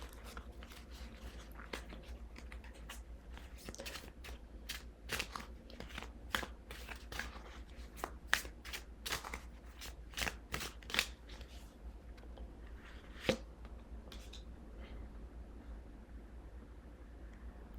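Tarot cards shuffled and pulled from a deck, crisp riffling and snapping card sounds close up in repeated bursts over a quiet background, with no voice.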